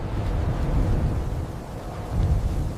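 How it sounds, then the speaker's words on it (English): Stormy weather with rumbling wind and low thunder-like roars, loud broadband gusts swelling and easing over a few seconds with no other sounds. "Storms strike, winds tear their formations apart."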